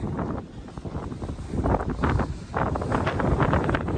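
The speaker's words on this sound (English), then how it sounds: "Oh, it might be windy." Gusts of wind buffet the microphone at Black Rock Overlook on the Appalachian Trail, producing a loud, uneven rumble that swells and dips throughout.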